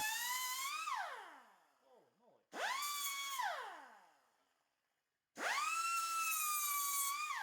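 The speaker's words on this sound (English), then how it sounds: "I'll be reaching for this die grinder with a diamond blade on it quite a bit more" A die grinder fitted with a Graff diamond cut-off wheel whines at high pitch in three separate bursts, each winding up and sagging as it bites into the cut, loud and close with near-silent gaps between them.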